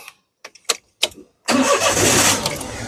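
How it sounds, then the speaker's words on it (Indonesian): A 2013 Daihatsu Xenia 1.0 with a manual gearbox cranks in a few short bursts. It then catches and settles into a loud, steady idle up close, with no talking. "terus habis itu sekarang kita coba nyalakan mobil ya"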